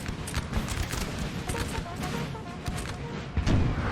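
Infantry musket volleys in the Napoleon Total War battle game, with dense bursts of crackling gunfire and distant booms spread across the clip and a heavier crash near the end.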